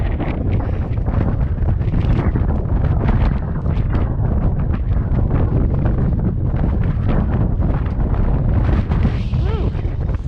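Strong wind buffets the microphone on the open summit of Mount Madison, a loud, continuous roaring rush with gusty surges throughout and no clear talk over it.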